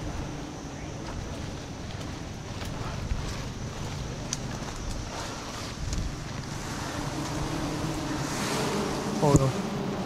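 Bees swarm around a giant wild beehive high in a tree, a continuous close buzzing drone with wind noise on the microphone, steady and fairly loud throughout.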